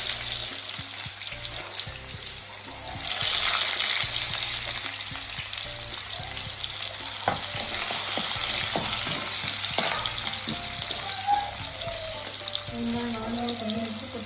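Onions sautéing in a pan for a village-style small-fish (ayirai) gravy, giving a continuous loud frying hiss that swells after a few seconds, with scattered stirring clinks throughout.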